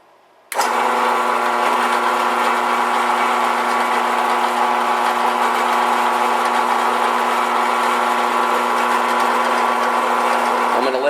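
Drill press running steadily while drilling metal for a jewelry internal cut, a constant motor whine that starts abruptly and holds loud and even throughout, with no talk over it.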